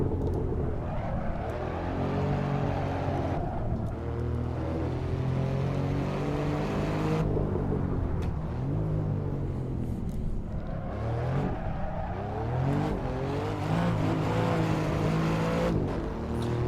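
Alfa Romeo Giulia Quadrifoglio engine in the Assetto Corsa racing game, a loud, close, continuous engine note rising and falling through gear changes and revs as the car drifts through corners.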